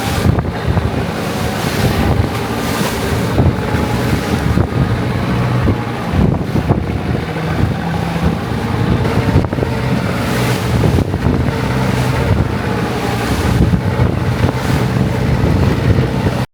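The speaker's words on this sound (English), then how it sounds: "That was not a smooth boat over to the island" Heavy wind buffeting the microphone on a boat crossing to an island off Thailand, with rough waves and surf churning beneath, loud and continuous throughout, no voices.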